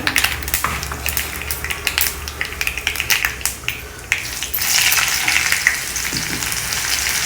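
Mustard seeds, urad dal and jeera sizzle and crackle in hot sesame oil, a steady close frying hiss with scattered sharp pops that grows denser toward the end, with no talking.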